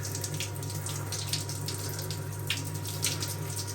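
Hot water runs steadily from a shower tap, a continuous close rushing hiss over a low, constant hum, with no voices.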